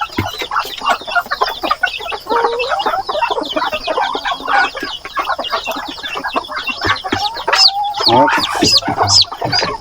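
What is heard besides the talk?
chickens clucking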